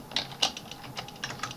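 Quick keystrokes on a computer keyboard entering letters for a Mathcad 14 matrix exercise, a close, fairly faint series of crisp clicks in an uneven rhythm.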